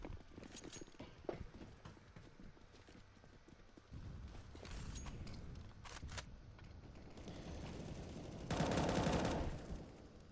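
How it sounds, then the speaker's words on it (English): Rapid gunfire from a Counter-Strike match trading back and forth, with bursts of rifle shots spread across the clip and a dense, louder volley near the end. "Shots go back and forth."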